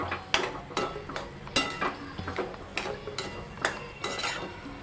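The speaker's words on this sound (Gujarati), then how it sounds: "બધું બરાબર મિક્સ કરી લઈશું" A spoon stirs bread pakora filling in a pan over the flame, with coriander leaves just added, making repeated close scraping and clinking strokes in a busy, even rhythm and no talking.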